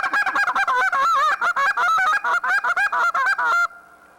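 Hand-blown goose calls imitating geese with rapid clucks and drawn-out moans, loud, close and nearly continuous honking before stopping abruptly.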